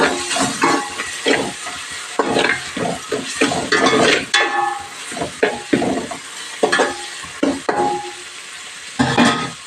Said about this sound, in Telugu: ఉప్పు అయితే వేసుకు వేస్తున్నాము కొంచెం కలుపుదామండి ఈ రైస్ని